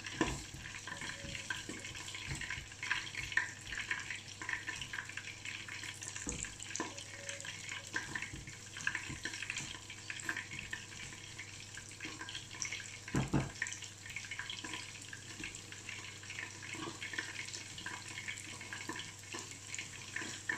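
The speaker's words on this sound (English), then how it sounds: "So first, we have to saute the garlic." Garlic sizzles softly in a pan for sweet chili shrimp, a faint steady crackle and hiss with a few small clinks, no talking.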